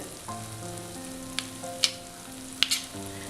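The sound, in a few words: ghee added to semolina upma sizzling in pan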